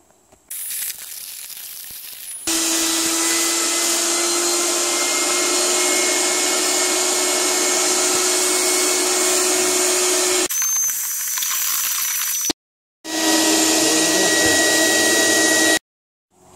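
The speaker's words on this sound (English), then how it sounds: "What a difference a quick vacuum makes." A vacuum cleaner runs loud and steady while cleaning a boat's companionway, its motor whining continuously with a brief cut-off and restart near the end.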